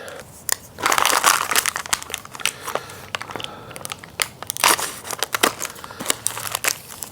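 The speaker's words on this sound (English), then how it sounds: "Open up the parts bag." A plastic parts bag from a power tool organizer being torn open and handled, giving a run of sharp crinkles and crackles in bursts, close and fairly loud, with no talk.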